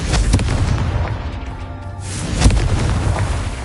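A Confringo blasting spell explodes in the Hogwarts Legacy video game, a loud booming burst with rumbling debris that dips briefly and then swells into another heavy blast, with no talking.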